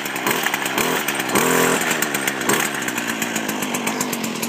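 A freshly fuelled Stihl FC 56 C gas-powered edger runs on choke just after starting, its small two-stroke engine buzzing loudly and steadily up close with slight wavers in pitch.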